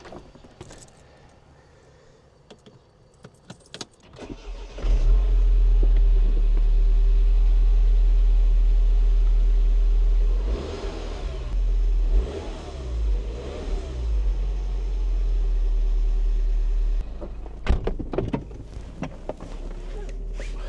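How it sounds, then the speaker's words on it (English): A Mini Cooper S with a suspected Vanos or intake duct air leak cranks and fires up, settles into a steady idle, then revs several times before shutting off. The engine sounds close and loud. "then we are good to start the engine and see if it works."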